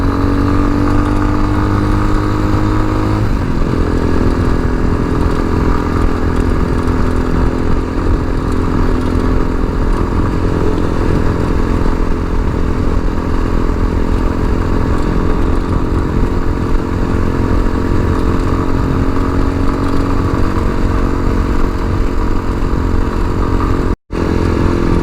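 The engine of a tuned TBR7 Chinese dual sport motorcycle idles a little low, a loud, close, continuous rumble that holds steady for the whole stretch.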